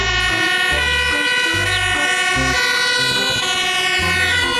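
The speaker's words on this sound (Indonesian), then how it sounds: "lihat ini teman-teman, ada truk pemadam kebakaran" Toy fire truck siren wailing steadily and loudly, with a layered electronic tone and a chunky rhythmic toy-motor or beat pulse underneath, continuous throughout.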